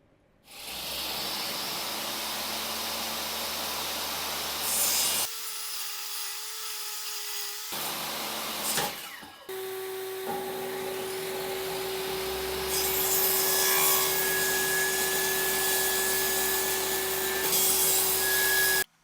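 Power saw cutting a wooden back panel for a display case, a loud sustained whirring cut that stops briefly, then restarts with a steady tone and builds louder toward the end.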